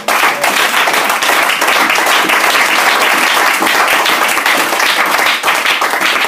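A church congregation applauds loudly and steadily for the full six seconds, a dense wash of many hands clapping without pause.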